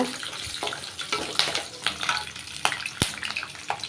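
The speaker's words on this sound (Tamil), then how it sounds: "நிலக்கடலை சேர்த்த உடனே லைட்டாக வதக்கி விட்டுக்கோங்க" Soaked peanuts sauté in a hot pan for a white sorghum upma, a light sizzle under repeated scraping stirs and occasional sharp clinks of the spoon against the pan.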